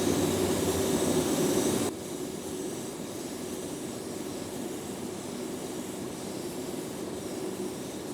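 A paint spray gun lays down a full coat on a car body, giving a steady loud hiss of air and atomized paint that continues without break, slightly louder at the start and then even.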